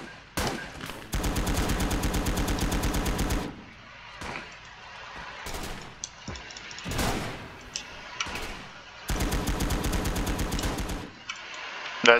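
Machine gun fire in the WWII strategy game Call to Arms: Gates of Hell, playing as Japan: two long loud sustained bursts of rapid automatic fire separated by quieter battlefield clicks and thuds.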